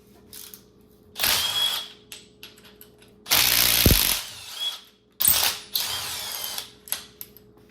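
Ratchet and power tool working on the handlebar bolts of a Honda CR 85 dirt bike during a restoration, several loud bursts of clicking and whirring separated by short pauses.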